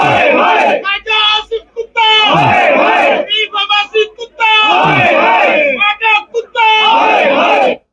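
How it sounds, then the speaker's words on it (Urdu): A large crowd chants slogans outside Adiala jail, with loud rhythmic shouted phrases in repeated bursts about every second or two and brief gaps between, close and dense with many voices together. "جناب وہاں پہ نعرے لگائے گئے"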